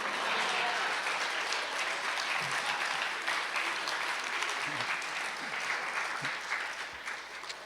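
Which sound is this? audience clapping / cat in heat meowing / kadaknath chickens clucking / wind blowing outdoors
audience clapping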